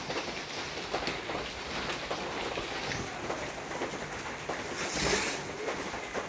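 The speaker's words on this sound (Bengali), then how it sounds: "আর এত বৃষ্টি নামছে, এই এক মাসে বৃষ্টি ছাড়ছে না" Heavy rain falls without pause on a wet day, a thick, continuous wash of droplets that swells briefly louder near the end.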